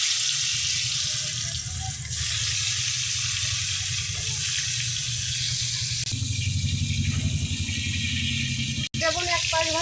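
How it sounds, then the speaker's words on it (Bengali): Salted eggplant slices frying in oil in a pan, a steady broad sizzle running throughout, loud and close, with a soft voice murmuring beneath it and a brief sharp click near the end. "বেগুন কটা ভেজে নেব"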